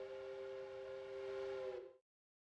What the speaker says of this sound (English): Why am I hearing whistles?